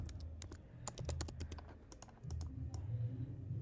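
Clicky typing on a computer keyboard, a quick irregular run of sharp key taps with brief pauses between bursts, close and fairly quiet with no talk.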